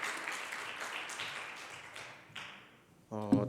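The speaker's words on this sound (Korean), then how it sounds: "우리 다시 한번 축복의 박수 나눠주시면 감사하겠습니다" A congregation at a young adults' Sunday church service gives a warm round of applause that gradually fades away, and a voice begins speaking as it dies out.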